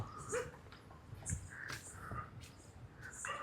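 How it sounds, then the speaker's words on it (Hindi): Dogs whimpering and whining at night in a park, in short, high-pitched bursts, with a few soft yips, fairly close and moderately loud. "अबे ये कुत्ते रो रहे हैं"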